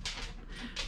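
Shelby, a small dog, whimpers at a passing trash truck in a few thin, high, whiny bursts, close by and fairly faint, with no voices.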